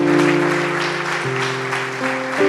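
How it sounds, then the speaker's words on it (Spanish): A church congregation claps together in praise to the Lord, a steady wash of applause riding over loud sustained keyboard chords that change twice. "¿Cuántos le regalan un aplauso al Señor?"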